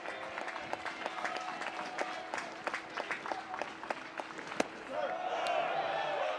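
A college baseball crowd at a Kentucky versus Florida game claps and cheers in scattered bursts after a called pitch near strike three, heard at a distance, with a broadcaster talking over the noise.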